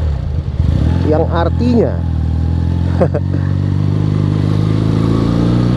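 A 1976 Honda CB200 twin-cylinder motorcycle idles with a steady, low engine rumble close by, while someone talks over it.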